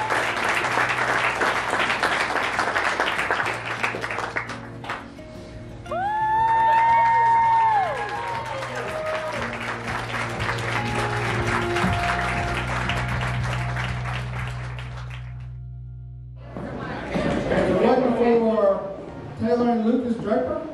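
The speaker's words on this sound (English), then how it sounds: "So let's give them a real big round of applause, please." Wedding guests applaud and cheer for newlyweds Mr. and Mrs. Lucas William Draper, bursts of clapping and whoops that swell and ease over steady background music, with a brief pause before another round of cheering.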